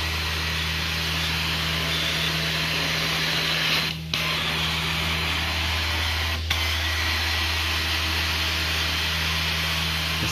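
A carpet cleaning machine works steadily over heavily compacted dirt in a carpet restoration job, a loud continuous motor drone with two brief dips as it pauses, no voices.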